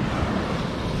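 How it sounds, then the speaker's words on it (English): Surf washes onto a Colombian beach where a jungle river flows out into the sea, a steady, dense roar of waves mixed with wind buffeting the microphone, continuous and fairly loud with no voices. "That's the river coming in from the jungle, coming out into the sea."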